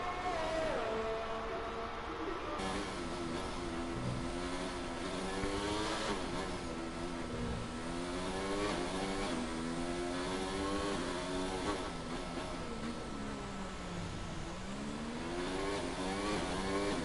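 A race car engine in a Formula-style racing game on the Singapore circuit brakes hard, then revs and accelerates again, its pitch sweeping down and up through several gear changes, loud and continuous with no talking.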